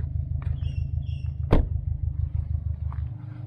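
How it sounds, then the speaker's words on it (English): A car rumbles along a tree-lined road with a low, steady engine drone, and one sharp knock or thump cuts through midway. "Better just wait for that car to come through"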